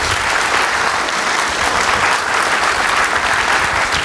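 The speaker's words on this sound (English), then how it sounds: "Another round of applause, please." Steady, dense applause from a conference audience after a keynote talk, a full round of clapping sustained evenly throughout with no voices over it.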